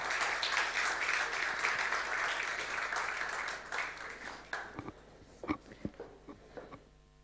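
A conference audience applauds a panel taking the stage, dense clapping that tapers off into a few scattered claps and faint movement.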